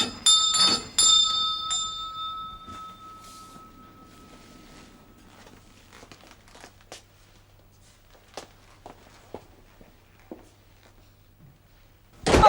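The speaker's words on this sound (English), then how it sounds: "Ring the bell." A single bell rings out loud and clear at the start in a period household setting, its tone fading into a quiet room with faint footsteps and small knocks, before another sharp sound at the end.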